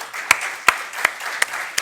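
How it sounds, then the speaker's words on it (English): Conference audience applauding panelists: a soft bed of many hands clapping with a few loud, sharp claps near the microphone recurring at a steady beat, no talking. "And I think the panelists earn one applause to this."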